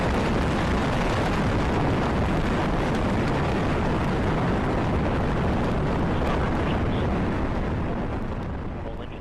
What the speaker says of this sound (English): We have liftoff of the United Launch Alliance Delta IV Heavy rocket carrying the NROL-65 mission to the National Reconnaissance Office.